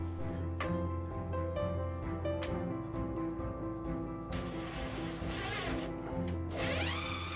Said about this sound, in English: Find the studs and screw the box to the studs.